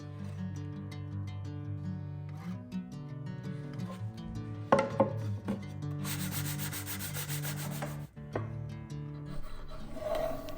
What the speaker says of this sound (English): some gentle sanding